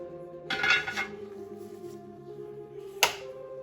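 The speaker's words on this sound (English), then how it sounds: "Put the top on it, turn the heat off." A lid goes onto a pot of French onion soup with a metallic clatter, followed a few seconds later by a second sharp clink, with faint kitchen hum between.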